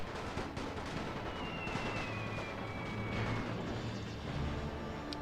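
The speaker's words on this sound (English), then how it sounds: "A small arms fire is what I should call it" Dense, continuous battle noise of small arms fire in the video game The Great War 6.0, a steady crackling wash of gunfire with distant booms, moderately loud throughout with no speech.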